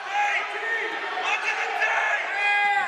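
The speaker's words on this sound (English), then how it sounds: "you can hear the crowd behind me also not agreeing on" Crowd at a women's college basketball game between Pensacola State and Northwest Florida State, a steady murmur of disagreeing voices and shouts behind a nearby commentator talking throughout.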